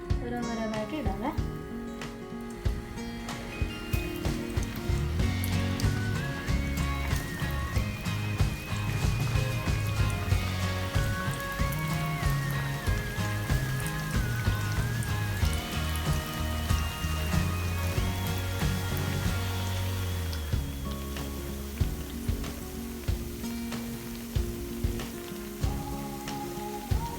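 Potato smiley snacks deep-frying in hot sunflower oil, a steady close crackling sizzle with bursts of bubbling as pieces go in, running under a woman's speech and soft background music.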